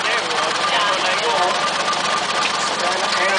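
A 1919 tractor with a horizontal two-cylinder engine runs with a steady, rapid chugging drone, close and continuous, while someone talks over it.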